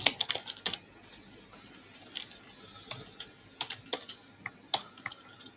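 Code being typed on a computer keyboard gives irregular bursts of sharp key clicks with short pauses between them, close and fairly quiet, with no talking.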